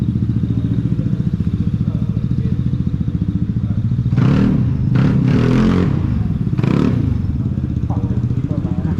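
A 2023 Vespa GTS300 HPE Supertech scooter engine runs steadily while riding, loud and close, with a few louder revving bursts in the middle and voices talking over it.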